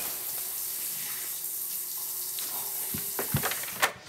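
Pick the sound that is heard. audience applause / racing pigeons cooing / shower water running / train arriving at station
shower water running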